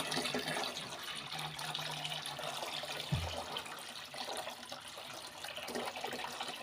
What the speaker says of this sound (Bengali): অনেক পরিমাণ জল লাগবে হয়তো এতখানিক লাগবে জল ভরা